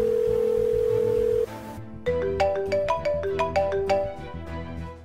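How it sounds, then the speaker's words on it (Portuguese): A telephone ringing on an outgoing call: a steady tone gives way to a repeating electronic ring melody, loud and close, with no voices. "Eu vou ligar para Ana Lúcia."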